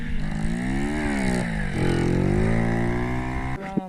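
Pit bike and snowmobile engines rev loudly in fresh snow powder, a strong buzzing drone that rises and falls in pitch, with a brief throttle blip near the end.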